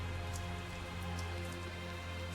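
Steady rain falls in a Tales of Zestiria game scene, a constant even wash of drops with a low droning hum beneath and no voices.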